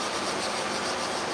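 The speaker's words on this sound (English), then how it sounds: "So we're recharging the plate with abrasive. I use a 180 abrasive." Steady, continuous rasping rub as 180-grit abrasive is worked onto a clipper-blade sharpening plate, a close, even gritty hiss with no pauses for the whole moment.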